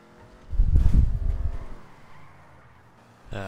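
A car engine revving in a GTA video game, one loud rev rising and then fading into a fainter idle, with a second rev starting right at the end and no talking.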